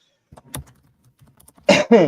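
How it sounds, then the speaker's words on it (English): A man coughs, a short sharp burst after a few faint taps and clicks, close and loud near the end of an otherwise quiet moment. "I did not mean to cough into y'all's faces"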